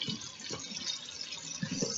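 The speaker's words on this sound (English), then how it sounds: "Ooh, it's just bubbling." Buffalo fish cooking at an outdoor cookout gives off a soft, steady hiss of bubbling with faint gurgles, quiet and close, with no talk.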